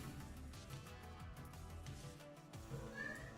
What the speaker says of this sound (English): She's just meowing.